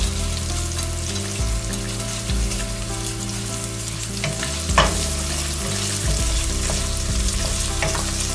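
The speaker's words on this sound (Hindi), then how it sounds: "टमाटर गलने तक भुनेंगे।" Tomatoes and cinnamon fry in a pan with a constant close sizzle, broken by scraping stirs throughout and no voices.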